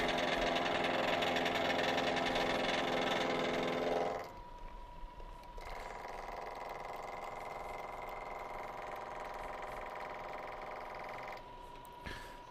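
A manual milling machine cuts a metal block, first a loud steady whirring grind with a harsh chatter, then dropping to a quieter constant motor hum with a thin tone, close and continuous with no speech.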